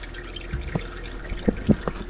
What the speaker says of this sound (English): Should start dripping down.